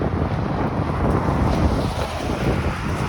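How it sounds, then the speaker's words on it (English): Cold outdoor wind buffeting a microphone on a neighbourhood street walk, a continuous loud rumbling roar with gusty fluctuations and no other distinct sounds. "it's the wind that bothers me"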